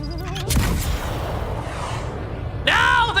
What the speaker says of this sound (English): They're shooting me off the ship again!